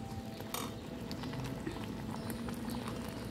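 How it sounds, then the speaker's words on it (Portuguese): Water boiling in a mug, a soft continuous bubbling and light patter with a few small clinks, fairly quiet and without speech. "E agora eu já deixei uma aguinha fervendo ali, ó, no caneco, né?"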